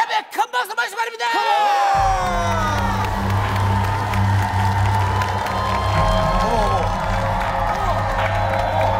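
A studio audience at a Korean TV variety show breaks into loud applause and cheering with whoops and shouts, beginning after some opening voices and holding a dense, sustained roar to the end.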